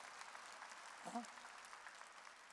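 Brief applause from a church congregation during a pastor's sermon, moderately loud and fairly even, with a faint voice briefly audible through the clapping.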